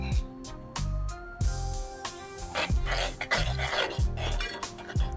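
Chicken lollipop drumsticks being mixed with chipotle pepper sauce in a pan, giving repeated clattering scrapes and clinks of utensil against cookware in a steady rhythm, close and fairly loud, with no talking.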